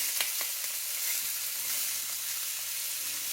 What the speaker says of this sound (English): I can see it sizzling